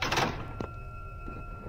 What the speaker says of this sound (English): Right, open the door.